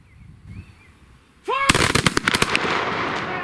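A single volley of Minié rifles fired by Crimean War reenactors bursts out loud and close as a ragged cluster of sharp cracks, after quiet ambient sound and a brief shouted command, leaving a rolling echo.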